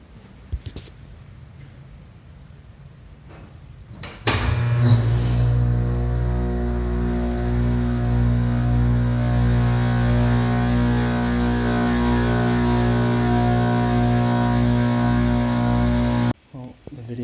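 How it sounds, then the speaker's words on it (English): A 2002 TKE hydraulic elevator motor starts up in its motor room in Allen, Texas, after a quieter lead-in. It holds a loud, steady droning hum for about twelve seconds, then cuts off abruptly. "Let's listen to this motor."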